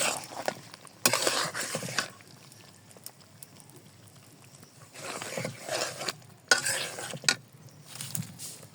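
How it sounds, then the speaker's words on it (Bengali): Raw mango pieces tipped into a pan of fried spices, then stirred: a few bursts of rustling, scraping and sizzle separated by quieter stretches, close by and moderate in volume, with no talking. "মশলা আমার এখন কষানো হয়ে গেছে, আমি আমগুলো ঢেলে দিব।"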